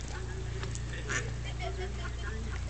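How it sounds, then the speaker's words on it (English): A mother duck with her ducklings quacks briefly in steady rain, one short call rising over the constant patter while a person talks nearby. "Mama duck"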